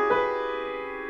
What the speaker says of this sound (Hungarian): Egyik kedvelt 7-fokú hangsorom így hangzik.